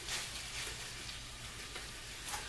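Ground meat browning in a pan for tater tot casserole, a faint, even sizzle and crackle with no voices.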